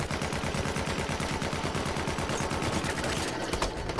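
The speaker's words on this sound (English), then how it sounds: "everyone's using the frickin' assault rifle, so I might as well too" Rapid, continuous automatic assault rifle fire in the World War I shooter Battlefield 1, a dense rattling burst of shots lasting several seconds, loud and close with a brief pause near the end.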